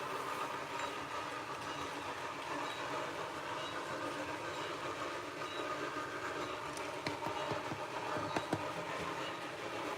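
Model steam locomotive running steadily, a continuous broad rumble and hiss with faint clicking near the end, moderately loud and without voices.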